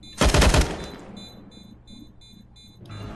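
Gunfire in a Counter-Strike match on the Mirage map, a loud burst of rapid shots lasting about half a second, followed by quieter game ambience and a few soft background sounds.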